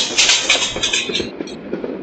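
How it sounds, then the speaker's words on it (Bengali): A long passenger train rolls past close by, a steady broad rushing roar with hissing and faint rail clatter throughout. "ও ভাই এত লম্বা ট্রেন এটা"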